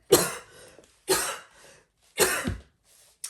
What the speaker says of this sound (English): I find it interesting that I start coughing as soon as this card comes out.